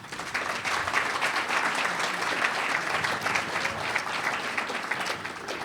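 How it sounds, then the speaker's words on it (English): Dense, steady applause fills a banquet room at a Clearwater Beach restaurant week awards dinner, many hands clapping together loudly and evenly for several seconds. "Give yourselves a round of applause"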